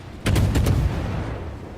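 Guns of the Russian destroyer Kiev fire in World of Warships, a quick cluster of sharp booming blasts that roll into a low rumbling tail.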